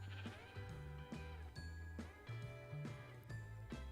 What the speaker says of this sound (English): I've got the very rare spawning pink sheep on my airport grounds